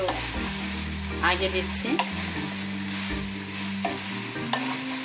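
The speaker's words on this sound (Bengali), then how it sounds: "আমি এক এক করে দিচ্ছি, কারণ একটু যেগুলা সময় লাগে সেই সবজিগুলো আমি একটু" Mixed vegetables stir-fry in a hot pan Chinese restaurant style, a loud steady sizzle with occasional scraping strokes, close by, while a person says a few words over it.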